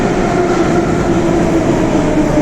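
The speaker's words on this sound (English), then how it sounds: "here it is. So I'll get on the train, it's only for one stop." A Russian metro train pulls into the station with a loud, continuous rumble and clatter of wheels on rails that fills the whole stretch, with no talking.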